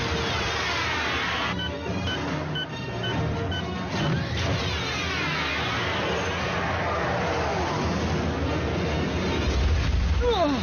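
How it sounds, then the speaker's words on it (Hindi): A cartoon battle explosion from an Autobots-versus-Decepticons animated episode: a loud, sustained crashing blast with rumbling debris that rolls on for several seconds, then swells again near the end. "क्यों, कैसा लगा ये धमाका?"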